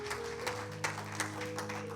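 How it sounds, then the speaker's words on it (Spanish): A church congregation claps after a closing prayer, soft scattered applause with a few sharper claps, set against steady sustained music tones in the background. "Dale el mejor de los aplausos que no le has dado en mucho tiempo"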